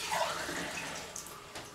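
Water runs from a tap for rinsing, a steady, moderately faint gush with slight splashing changes toward the end.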